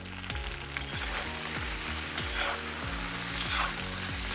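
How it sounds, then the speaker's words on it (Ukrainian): Potatoes sizzle and crackle steadily in hot oil in a cauldron, with a broad hiss and occasional scraping of stirring, close up. "Картоплю буду смажити до напівготовності. Постійно помішуючи."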